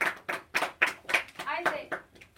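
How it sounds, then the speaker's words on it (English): A small classroom group claps for a student in about eight loud, evenly spaced claps, close to the listener, with a voice speaking briefly partway through. "Give him an applause."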